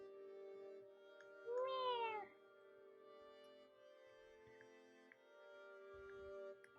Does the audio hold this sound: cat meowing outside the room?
yes